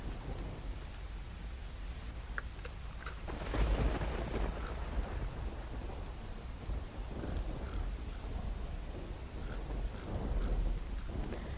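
Dense, steady rush of heavy downpour in Dhansura taluka, Arvalli, Gujarat, with low rumbling swells, like distant thunder, continuous and fairly loud throughout.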